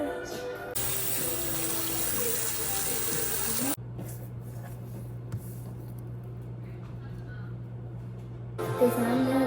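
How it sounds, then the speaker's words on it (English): A kitchen tap runs loudly for a few seconds while fenugreek (methi) leaves are washed in the sink, then the water drops to a quieter trickle with faint handling sounds close by. "I need to cut this methi first and then wash it."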